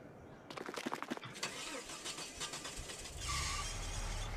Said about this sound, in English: Even the way the car starts, it has a very much of European feel to it